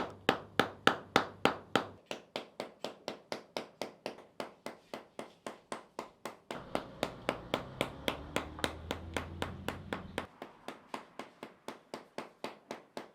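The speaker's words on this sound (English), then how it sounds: "Then comes the main processing stage, hammering." Soaked banyan tree bark being hammered into bark cloth in the traditional Austronesian way, a steady run of sharp, close knocks at about three per second that continues throughout, with a low background hum in places.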